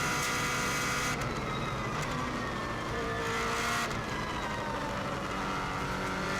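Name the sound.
rally car driving the Isle of Man circuit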